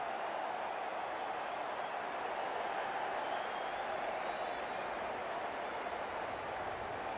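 Large crowd at an amateur cricket match, Vancouver Dolphins against Portland Hipsters, cheering and applauding as a steady, dense roar that holds loud and continuous throughout.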